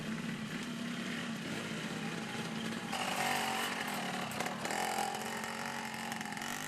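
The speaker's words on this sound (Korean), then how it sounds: "소리의 정체는" A small motorcycle engine runs steadily nearby, buzzing and droning, its pitch rising briefly as it revs, with no talking; in Indonesia, on a motorcycle rigged with long poles to haul heavy logs.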